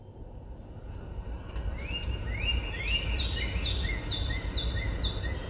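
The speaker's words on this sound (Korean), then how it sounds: "생기 넘치는 숲," A forest ambience played through a Kia K7 Premier car's nature-sounds system: birds chirp and whistle in repeated, rising calls over a soft, steady low rumble, fairly close and lively.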